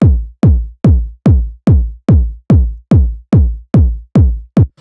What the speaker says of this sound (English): this is just a nice punchy 909 kick right out of the drum machine